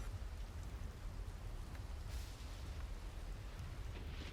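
Faint, steady rain hiss with scattered soft patters, constant throughout with no voices, during a tabletop Dungeons & Dragons game.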